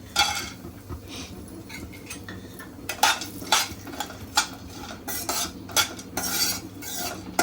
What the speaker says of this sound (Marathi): त्यामध्ये आपण ड्रायफ्रूट परतून घेऊया